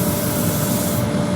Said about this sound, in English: I'm not going to spend too long on the sanding.